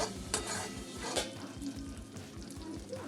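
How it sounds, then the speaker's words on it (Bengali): Spices with coriander powder and a little sugar are stirred and fried in a pan for an okra curry. A spoon scrapes rhythmically against the metal over a soft sizzle, with a few sharper clinks. "মশলাগুলো একসঙ্গে কষে নেব।"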